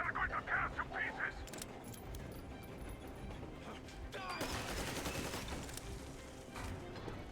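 Gunfire in the video game Metro Exodus, sharp crackling bursts in the second half amid a busy, noisy combat mix, with shouting voices heard in the scene.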